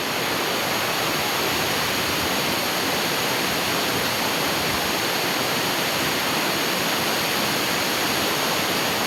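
Catherine waterfall near Kotagiri roars as a constant, dense rush of falling water, close and steady for the whole stretch with no voices.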